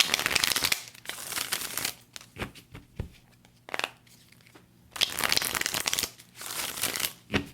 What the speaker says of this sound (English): I'm definitely going to shuffle these a little more.